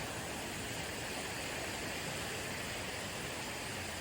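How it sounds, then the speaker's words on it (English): River water rushing steadily through the Strid, a narrow gorge in Yorkshire, forming a dense, continuous roar with no breaks or voices. "we made our way along the river to a place called the Strid"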